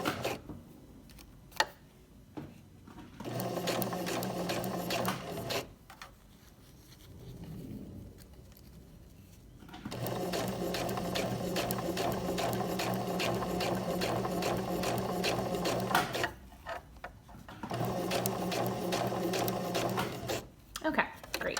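A sewing machine runs long basting stitches to hold a fly zipper in place, whirring in rhythmic bursts several seconds long that are separated by pauses, close and fairly quiet, with faint talk in between.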